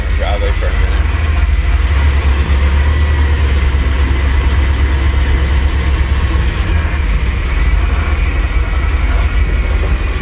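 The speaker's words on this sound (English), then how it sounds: "Let it sit in idle on the driveway for a minute." A 1990 GMC G3500 Vandura van idles on a driveway, giving a steady, loud, low rumble that holds without change throughout.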